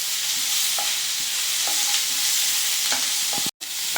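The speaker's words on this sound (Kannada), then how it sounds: "ಈರುಳ್ಳಿನ ಚೆನ್ನಾಗಿ ಫ್ರೈ ಮಾಡ್ಕೊಳ್ಳಿ." Onions frying with garlic and ginger in a pan for a village-style sprouted beans sambar, a steady sizzle with a few scraping stirs, close and continuous, then a brief dropout near the end.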